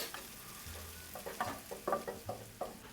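Vegetables for a chicken burger caramelize in a pan, giving a quiet close sizzle broken by a run of soft scraping stirs and pan knocks, with no talk.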